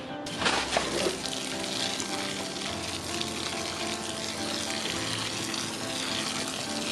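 Water running and splashing through potting mix while rinsing it before repotting a six-month-old Monstera, a steady close-up rush with a sharper splash near the start and no talking.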